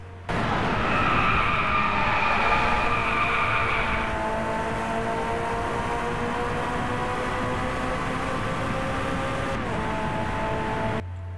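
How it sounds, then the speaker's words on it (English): A synthetic, whiny Ferrari engine note in the racing game Driveclub races steadily, pitch shifting as it revs, loud and continuous until it cuts off near the end. "you're not gonna tell me a Ferrari sounds like this"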